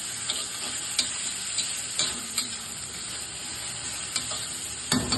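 Sliced onions frying in a pan for a vankaya pulusu curry make a steady, bright sizzle, close by, with a few soft clicks and spoon stirs popping through at irregular intervals.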